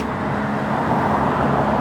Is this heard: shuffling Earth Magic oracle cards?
no